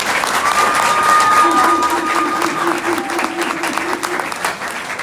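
Applause rings out for the Harcum women's volleyball program at an end-of-season gathering, with a steady burst of clapping from a crowd, loud and sustained, and a few whistles and voices mixed in.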